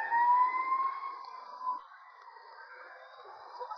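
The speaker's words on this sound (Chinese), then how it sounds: "救护车马上就来了。" A wailing emergency siren, meant as an ambulance answering a car crash, sounds steadily and fairly loud, then eases slightly while it keeps sweeping on its own without any voices.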